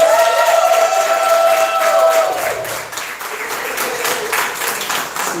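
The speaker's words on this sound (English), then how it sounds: "Everyone clap for the judges." A poetry slam audience applauds the judges with dense, steady clapping, joined at first by some faint cheering whistles, continuing throughout at a fairly loud level.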